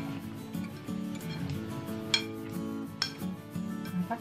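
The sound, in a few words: mixing coconut sprout salad with two chopsticks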